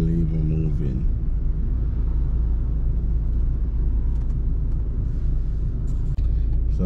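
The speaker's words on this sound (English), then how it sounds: "So I was still in traffic on the boulevard." A car rumbles low and steady while crawling through slow morning traffic on a boulevard, a constant deep drone heard from inside, with a brief voice at the start.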